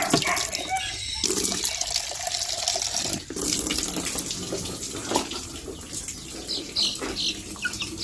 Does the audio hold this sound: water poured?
yes